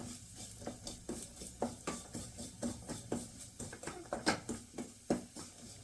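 Poppy seeds stirred with dry fruits roasting in ghee in a pan, a spoon scraping and tapping in a quick, regular rhythm of about two strokes a second over a soft, constant sizzle.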